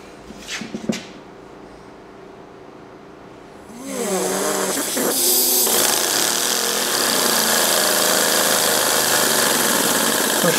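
A small three-cylinder model radial engine is started after some brief clattering handling, then catches and runs loudly and continuously with a rapid, buzzing, knocking beat that holds to the end.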